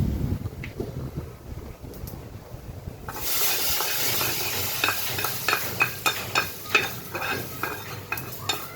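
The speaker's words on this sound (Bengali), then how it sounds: "বাগারটা আমার সুন্দরভাবে রেডি হয়ে গিয়েছে। এখন জাস্ট এটা আমি যে সবজিটা আছে এটার মধ্যে দিয়ে দিই।" Vegetables drop into hot tempering in a pan with a sudden loud sizzle, followed by a steady frying hiss and rhythmic scraping stirs, close and clear.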